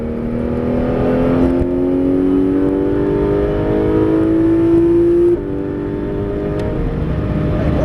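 A Porsche 911 GT3 RS (991) accelerates hard on the Clastres race circuit, its engine note climbing steadily through the revs, dropping briefly at a gear change, then rising again, loud and close throughout.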